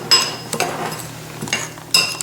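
Spoon mixing vegan cheese ingredients in a bowl, a handful of sharp metallic clinks and scrapes against the bowl at irregular intervals, close and clear with no talk.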